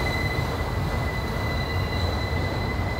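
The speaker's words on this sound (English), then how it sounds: "This is an auto rack train." An auto rack freight train rolls past at Horseshoe Curve, a loud continuous rumble of wheels on rail with sustained high-pitched wheel squeal riding over it throughout.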